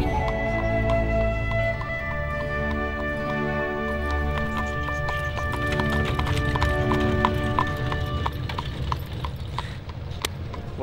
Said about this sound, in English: I'm controlling the horse.